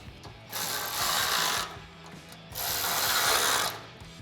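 A 5mm tool ratchets tight a bolt on an aluminum RedRock roof rack for a 2024-2026 Toyota Tacoma, in two sustained, loud clicking bursts separated by a brief pause.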